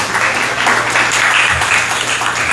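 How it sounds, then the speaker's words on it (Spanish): A crowd applauds steadily, a dense continuous clatter of many hands clapping with no pauses. "Un fuerte voto de aplauso."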